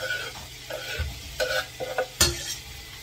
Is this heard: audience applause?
no